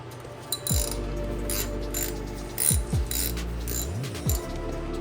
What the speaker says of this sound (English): So we can proceed to disinstalling the brake caliper.